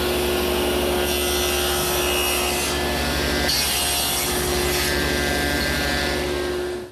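A table saw cuts wood with the piece guided by a miter gauge, giving a loud, steady whine over a continuous rasping grind that holds without a break, with no voices.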